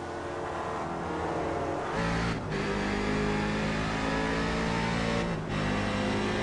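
A Grand Am race car engine roars loudly and steadily on track, holding a high drone with two brief dips where it lifts off and then picks back up.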